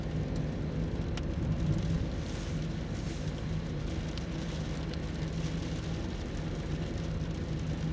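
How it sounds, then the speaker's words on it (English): Steady rain drums on the roof of a parked car, heard from inside as a continuous dense patter with a low rumbling undertone, no voices. "I've got to sit in the car until this rain stops"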